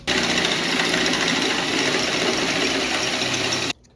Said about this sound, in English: We just need to drill out as fat as the threads right there